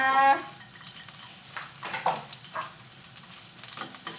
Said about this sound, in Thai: เจียวกระเทียมให้หอมนิดหน่อย